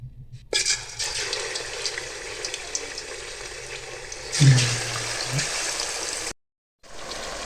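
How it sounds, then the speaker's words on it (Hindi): Chicken pieces sizzle in hot oil for a Shahi chicken qorma: a steady broadband fry hiss, swelling louder briefly midway, cutting out for a moment near the end, then resuming. "इसी ऑयल में हम चिकन शामिल करेंगे और इसको भी फ्राई कर लेंगे"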